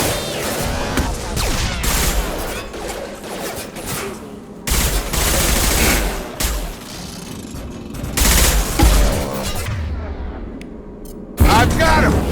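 Mass Effect 2 combat gunfire, dense volleys and impacts that surge and drop in loud chaotic bursts, with voices talking over parts of it.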